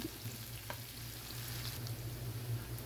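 Chopped onions frying in oil in a cooking pot for a lobia (black-eyed pea) masala curry, a steady soft sizzle with faint stirring, continuous and close, no talking.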